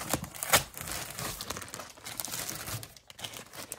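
Stiff plastic packaging crinkles and crunches up close as someone tears it open, in irregular bursts of rustling with brief pauses.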